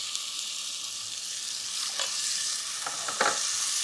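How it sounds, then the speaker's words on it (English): Arborio rice risotto being stirred constantly in a pot, a soft steady scraping and gentle sizzle with a few louder strokes near the end. "The trick is to stick to the pot and make sure you're stirring constantly."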